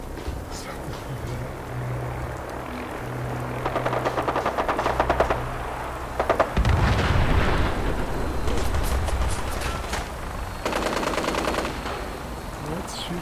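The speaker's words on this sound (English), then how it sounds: "What's shooting at me from that?" Rapid bursts of automatic gunfire in Fallout 4 VR, crackling in volleys across the scene amid rumbling game noise, with a person's voice talking over parts of it.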